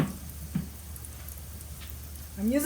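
Carrot bread puffs sizzle in hot oil in a small pan, a steady close crackle and hiss running underneath a voice speaking at the start and end.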